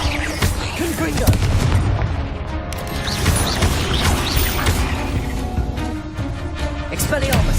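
Confringo spell blasts in Hogwarts Legacy boom repeatedly amid a dense, loud clatter of combat impacts and crashes, with the spell name shouted over the fighting.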